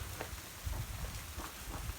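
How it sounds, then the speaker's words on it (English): Freezing rain falls outdoors on a day in Southern Illinois, a soft, steady patter with small scattered ticks of drops, quiet and without voices. "freezing rain."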